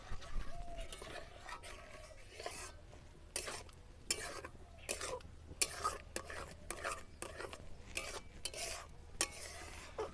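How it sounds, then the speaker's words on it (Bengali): Semolina dough stirred in a pan over a low flame, soft scraping strokes repeating at an uneven rhythm, faint and close, with light clinks of a utensil. "দেখুন একটু অনবরত এইভাবে নাড়তে থাকবেন"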